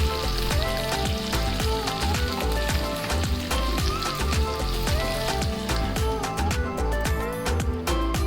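Tandoori chicken frying on a covered tawa, a dense, steady crackling sizzle with countless tiny pops, loud and continuous throughout without any speech.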